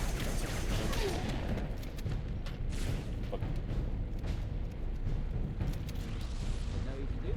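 A Halo 3 spike grenade goes off amid dense, roaring co-op battle noise, with rumbling blasts and crackling gunfire filling the whole stretch at steady, heavy loudness.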